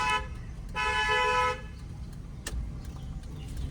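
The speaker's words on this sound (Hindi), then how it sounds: "ब्लाइंड टर्न है, लॉन्ग हॉर्न प्रेस करो" A single long car horn blast sounded at a blind turn in a narrow lane, loud and close, with road noise before and after.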